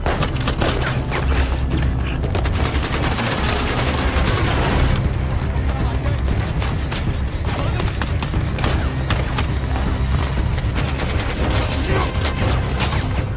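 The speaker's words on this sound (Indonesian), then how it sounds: "Terjadi baku tembak antara polisi dan tim SWAT dengan pasukan Hansen yang ingin membunuh Six." A film shootout from The Gray Man between police, a SWAT team and armed attackers, with continuous heavy gunfire, rapid bursts and booming impacts filling a loud, dense action soundtrack.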